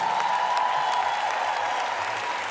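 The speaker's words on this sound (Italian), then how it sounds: "un applauso" Arena crowd at a live rock concert applauds a band member being introduced, a thick, continuous wash of clapping and cheering, steady and fairly loud, with a faint sustained tone running underneath.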